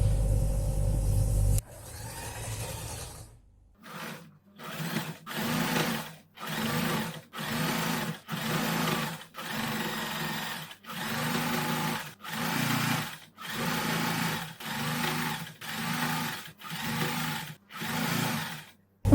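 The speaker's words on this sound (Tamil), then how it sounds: "நம்ம இப்போ அப்படியே ஸ்டிச் பண்ணிக்கலாம்." A sewing machine stitching a girls' summer dress runs in a regular series of short bursts, each a close, loud whirring rattle separated by brief pauses, with no talking.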